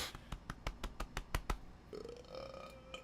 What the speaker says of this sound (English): I burped right in his face.